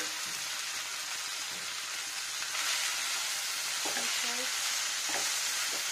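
Fried pointed gourd and potato being stirred in a hot pan with fish eggs curry, a steady sizzle and frying hiss with a few scraping stirring knocks, close and alone.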